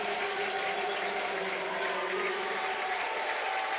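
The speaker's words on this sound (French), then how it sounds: "Applaudissements." Crowd applauding at a Coupe de France football match between Quévert and Coutras, a sustained distant wash of clapping and cheering heard steadily from start to finish under a faint tonal hum.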